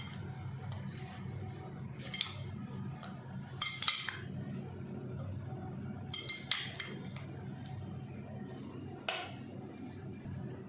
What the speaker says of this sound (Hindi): ये 3 टेबलस्पून हम ऑरेंज जूस डाल रहे हैं, और इसको अब मिक्स कर लेंगे अच्छे से।